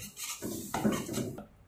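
A utensil stirring chicken in ghee in a cooking pan, soft scraping and rubbing strokes at close range, a few quick passes with faint sizzle beneath and no talking.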